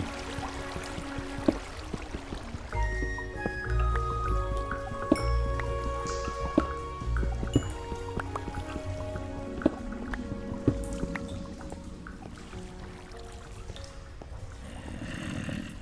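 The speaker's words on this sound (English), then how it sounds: "Alright, we got another leak. Got some water flowing in through here." Water drips and trickles into a Minecraft structure through a leak, scattered wet plinks and small splashes layered over a busy game soundscape with music-like tones, steady and moderately loud throughout.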